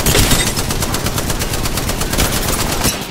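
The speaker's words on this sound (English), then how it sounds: "Taking fire." Rapid automatic gunfire from the shooter Apex Legends: a loud, close, sustained burst of evenly spaced shots for about three seconds, alone with no voices.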